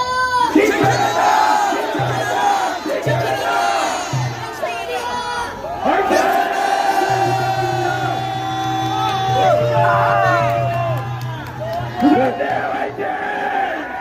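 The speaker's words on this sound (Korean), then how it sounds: "마지막으로 구호를 외치겠습니다" Crowd at a student rally against a presidential impeachment in Busan, shouting slogans in unison. Loud, rhythmic collective chants come in repeated bursts, ending with a sustained roar and cheering.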